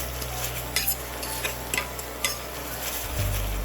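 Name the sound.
mashing tomatoes and ingredients in a pan with a masher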